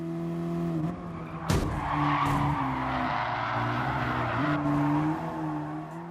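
Racing-game car skidding hard through a sharp corner at speed without braking, a sustained engine drone with shifting pitch and a loud tire-squeal burst midway, continuous and close.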